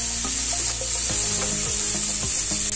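Sweet corn kernels tossed with grated cheese and salt for a cheese corn pepper fry make a continuous close stirring and rubbing sound, loud and steady throughout.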